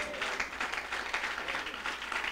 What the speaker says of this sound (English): Let's give God another hand clap of praise